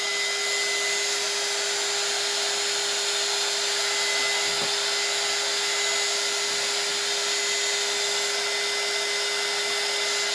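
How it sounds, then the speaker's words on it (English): A hair dryer blowing over fresh chalk paint on a vintage truck sign, a loud, constant whirring drone with a steady tone running unbroken throughout, with no voices. "So we're just giving this a quick dry."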